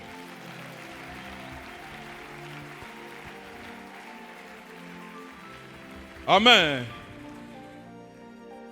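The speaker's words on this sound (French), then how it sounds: "Applaudis pour toi-même." A congregation at a church service applauding: a steady, crackling wash of clapping beneath music and a voice, then a short louder burst near the end; someone speaks briefly.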